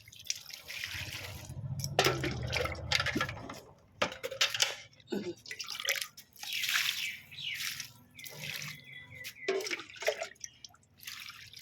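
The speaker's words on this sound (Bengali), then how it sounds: "ফুল গাছের জলটা দিয়ে নিই।" Water poured onto a potted flower plant trickles and drips in uneven bursts and splashes, fairly close, with a faint voice briefly in the background.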